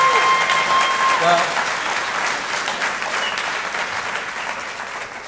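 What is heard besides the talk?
graduation ceremony audience applause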